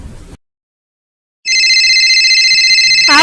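A phone rings loudly and close by with a steady, repeating electronic tone after a brief silence, following a few words of talk at the start.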